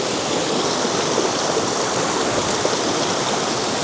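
A river near a snowy mountain rushes along in a steady, loud, unbroken wash of water noise, close by, with no voices.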